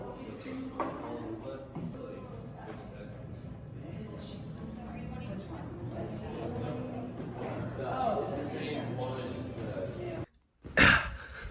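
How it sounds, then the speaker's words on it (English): A person coughs, with a sharp, close burst near the end after a stretch of talking and background noise. "I just got a cough."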